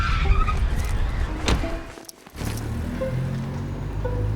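Hot, loud road traffic with a car passing close by, tyres hissing on the road and a swelling rush as it goes past, then a brief lull before steady engine rumble returns.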